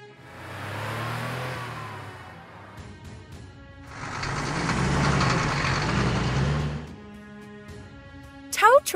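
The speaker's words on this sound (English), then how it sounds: "Ambulance." A cartoon ambulance gives two loud engine and siren-like swells, the second longer and stronger, and a short bright tone closes the sequence. No one speaks.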